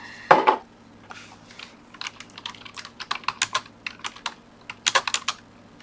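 Typing on a computer keyboard, one louder clack followed by a steady run of close, crisp key presses and a final short flurry, quiet with no talk.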